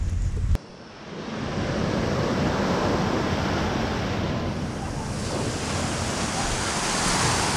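Sea waves wash steadily onto a crowded beach at Rethymno, Crete, a loud continuous surf roar with wind buffeting the microphone and a brief bump at the start.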